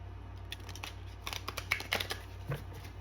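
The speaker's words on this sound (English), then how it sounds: "Let me shuffle these cards back into this deck." Tarot cards being shuffled back into a deck: soft, quiet riffles and flicks in a brief irregular run, close by and alone over a faint steady hum.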